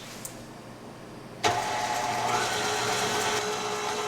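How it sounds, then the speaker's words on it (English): A KitchenAid stand mixer fitted with the whisk switches on abruptly and whirs steadily, beating cake batter up close with a constant motor hum and whisking noise that carries on to the end. "I find that on this KitchenAid that I can stir a cake up, actually beat a cake up, a lot better with the whisk."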